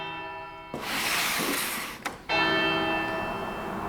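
A clock chimes three o'clock as a radio drama effect: ringing, bell-like tones sound clearly, broken in the middle by a burst of broad rushing noise, then resume and sustain.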